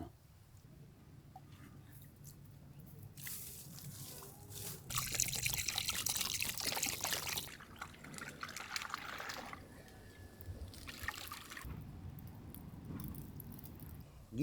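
Water trickles and pours in bursts, louder splashing in the middle, with faint background noise outdoors.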